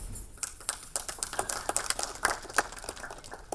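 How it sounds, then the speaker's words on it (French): An audience at a French talk applauds with scattered, fairly light hand claps, moderately distant and steady across the clip with no voices over it. "vous pouvez continuer d'applaudir"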